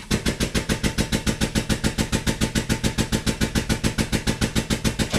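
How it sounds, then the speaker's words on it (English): Small pancake air compressor powering an air/hydraulic ram on a JD2 Model 32 pipe bender, giving a loud, steady rapid pulsing chug that repeats about seven times a second with no talk. "Right now I'm just running off my little pancake air compressor"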